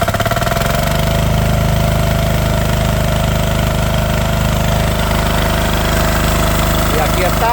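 A Truper 10 hp diesel water pump engine catches and settles into a loud, continuous, close-up rumble with a fast, even chugging pulse that holds steady throughout.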